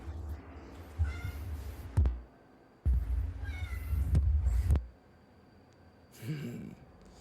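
A cat meows several times up close, drawn-out wavering cries separated by short pauses, over a low background hum.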